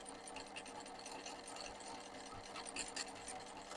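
Embroidery sewing machine stitching roof-coloured thread into a design on water-soluble stabiliser, a steady fast mechanical whir with a faint rattle, continuous and moderately quiet throughout.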